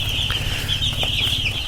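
Young chicks in a poultry house peep continuously in a dense high chorus, close and steady, with an occasional louder chirp standing out above a low background hum.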